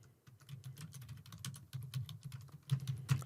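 Quiet, steady typing on a computer keyboard while a new tweet is written: a rapid run of light key clicks with a few louder taps near the end, and no voices.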